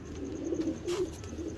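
A pigeon coos softly at close range, a few low throaty burbling calls in a quiet room with faint background hiss.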